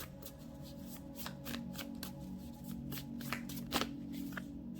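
Tarot deck being shuffled and cards drawn, a steady run of crisp riffling and slapping card sounds with sharp snaps, close and fairly quiet, no talking over it.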